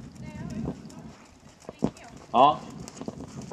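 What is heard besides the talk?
horse moving during a reining lesson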